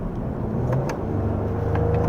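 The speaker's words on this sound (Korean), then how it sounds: "배기음 자체가 커졌죠" A Mercedes-AMG GLE 53 Coupe engine and exhaust rumble steadily and loudly from close by, a deep continuous drone with a few faint crackles on top.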